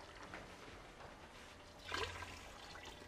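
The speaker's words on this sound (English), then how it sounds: "And then we're gonna go in with our water." Water poured into an Instant Pot over rice with oil and spices, a brief soft splashing pour in a quiet kitchen.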